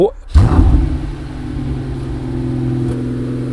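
A Brabus car with a 12-cylinder engine cranks over and fires with a sudden loud burst, then settles into a steady, rumbling idle close by.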